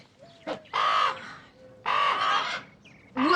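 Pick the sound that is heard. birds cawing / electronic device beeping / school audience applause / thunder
birds cawing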